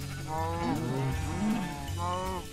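A cow in the video game Minecraft lets out two drawn-out moos, the second rising and falling in pitch, clear and alone with no talking.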